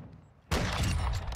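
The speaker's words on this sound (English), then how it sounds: "He's shooting at someone." Rapid gunfire erupts suddenly in a first-person shooter match, a loud, dense burst of overlapping shots that continues for nearly a second after a quiet lead-in.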